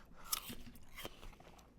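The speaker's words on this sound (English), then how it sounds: "Everyone enjoying my chewing?" Crunchy bites and chewing of a red apple, close and dry, with a sharp crisp snap early on followed by several smaller mouth crunches and soft chewing.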